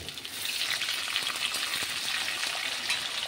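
Tomatoes sizzling and frying in a hot pan while cooking kochu shak (taro leaves), a steady loud crackle and hiss throughout with faint stirring.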